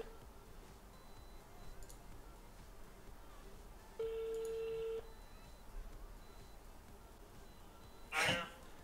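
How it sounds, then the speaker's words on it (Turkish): A phone number is dialed, and a single steady telephone tone is heard for about a second over faint room noise, followed near the end by a brief louder rustle or knock. "O arada numara arayayım."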